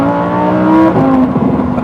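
A Lamborghini Huracan Tecnica engine revving up after a paddle shift, a loud close rising tone that climbs then settles with a downshift burble.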